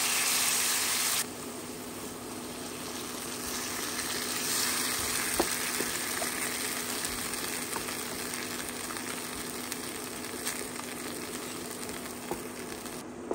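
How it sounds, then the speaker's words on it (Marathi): Goan cafreal masala sauce sizzles steadily in hot oil in a pan for paneer cafreal, a dense, even frying hiss that fills the whole stretch with small crackles, close and alone. "कायल तापले उपरांत 2 ते 3 कुल्यार आमी काफ्रियल सॉस घालूया आणि मसालो तळसून घेऊया"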